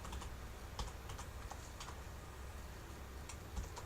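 Quiet, fairly fast typing on a computer keyboard, a string of light clicking keystrokes in uneven bursts, close by with no talking.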